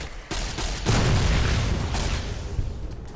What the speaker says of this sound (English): Dude, that explosion killed them both.